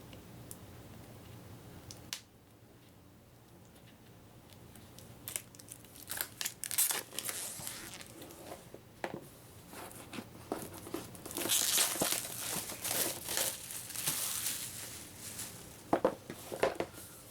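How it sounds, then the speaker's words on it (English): Plastic shrink wrap being torn and peeled off a Call of Cthulhu 7th Edition starter set box, heard as close, irregular crinkles and crackling rips that grow busier and louder toward the end. "If I can get the plastic off."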